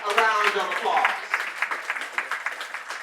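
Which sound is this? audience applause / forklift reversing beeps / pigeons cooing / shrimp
audience applause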